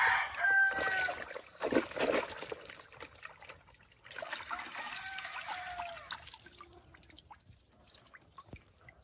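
Fighting roosters being bathed in mud water, with a loud nearby crow, some clucking and water dripping and trickling around them.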